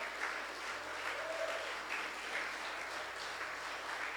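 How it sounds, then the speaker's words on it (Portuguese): A church congregation applauding in praise during a service, an even, continuous patter of many hands clapping together at moderate loudness throughout. "Então aplaude ao Senhor. Aplaude."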